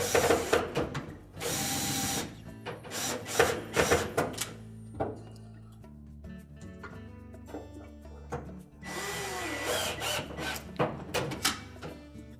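Power drill driving a screw to secure a Whirlpool washer motor, several short bursts of whirring with pauses between, close and fairly loud with handling clatter and no talk.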